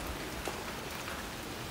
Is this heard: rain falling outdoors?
yes